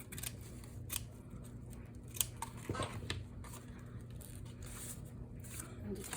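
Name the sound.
scissors trimming excess lace for a junk journal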